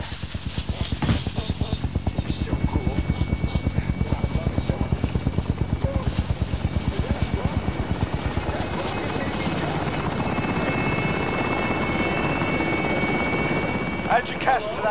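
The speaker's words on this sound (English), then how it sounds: "Helicopter is away." A helicopter in Call of Duty Modern Warfare arrives and takes off, its rotor chopping loud and rhythmic up close before the beat smears into a rising engine roar as it departs; speech-like sound mixes in faintly.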